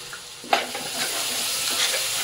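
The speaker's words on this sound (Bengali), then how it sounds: "মশলাটা ভালো করে কষিয়ে নিই" Spice masala with biryani masala sautés in oil in a pan, a close steady sizzle with a sharp spatula scrape near the start and lighter stirring scrapes afterward.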